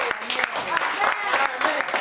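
A church congregation claps together in a lively, fairly close burst of rhythmic applause that lasts throughout, with a voice audible in the mix.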